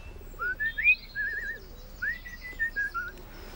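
A person whistles an imitation of a blackbird call, a series of clear, sliding melodic phrases in two short bursts with a pause between, close and fairly quiet over a hushed background.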